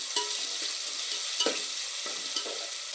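Onion, tomato and green chilli sauté in a pan for a goat intestine gravy, with a steady close sizzle, a few soft stirring scrapes and no voices.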